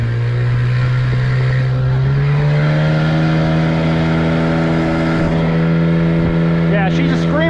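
A dinghy outboard motor running hard after a fuel pump replacement, with a loud, continuous high-revving whine that climbs in pitch early on and holds strong and close throughout.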